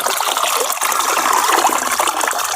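Desi cow urine, about eight kilos, pouring into a container while making jivamrut organic fertilizer, a loud steady splashing gush with no break.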